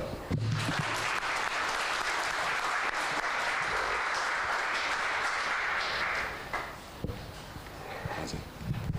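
Steady, dense applause from a church congregation fills the room for a trophy presentation after a potjiekos cooking contest, then tapers off near the end with a few scattered claps.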